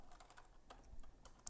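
Keys on a computer keyboard are tapped in a short, very quiet run of light clicks, close up, with no talking.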